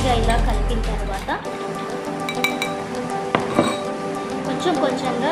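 A spoon clinks against a bowl while aloe vera gel is stirred into raw milk, light repeated taps and chinks at close range, with someone talking over them.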